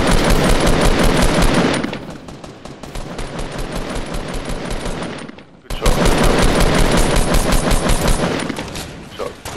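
Loud, dense automatic gunfire from a Fortnite match, with rapid bursts rattling almost continuously, a brief lull near the middle, then another sustained volley.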